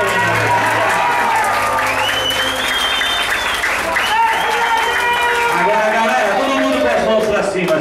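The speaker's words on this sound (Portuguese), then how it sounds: "Uma salva de palmas para você" Guests at a birthday party clap loudly and steadily for the birthday person in Vila Matilde, with cheering, whoops and chatter mixed into the applause.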